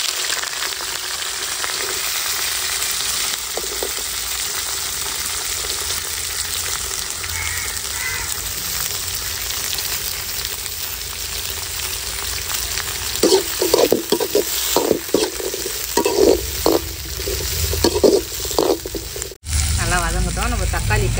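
Onions, curry leaves and spices frying for turkey thokku, a steady sizzle with a run of stirring and scraping strokes in the latter half, a crow calling faintly outdoors.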